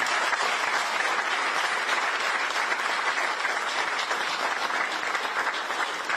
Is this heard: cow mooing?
no